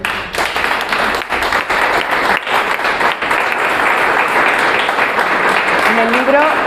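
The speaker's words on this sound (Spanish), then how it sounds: "le damos un fuerte aplauso" An audience at a talk on marriage gives loud, sustained applause that fills the whole stretch without a break.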